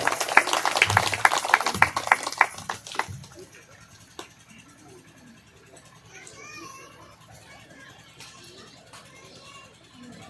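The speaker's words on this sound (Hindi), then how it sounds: "बजाइए ताली जोरदार" An audience at a Shrimad Bhagavat Katha religious discourse claps loudly for about three seconds in a dense burst that quickly dies away, followed by quiet murmuring voices.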